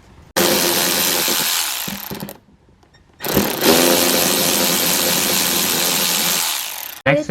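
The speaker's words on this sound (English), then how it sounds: "First thing I'm gonna do is remove these nuts right here. It's an 11mm." A ratchet or power tool removes 11mm nuts from the plastic fender liner of a Ford 6.0 Powerstroke. It makes two sustained, loud mechanical whirring runs with a short pause between them.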